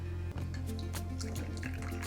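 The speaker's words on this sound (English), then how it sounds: "and then a bit of the warm water" Warm water is poured into a bowl of yeast and honey for pizza dough, making a steady wet trickle and splashing that runs throughout over a constant low hum.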